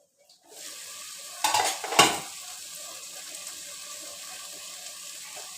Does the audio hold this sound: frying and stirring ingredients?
yes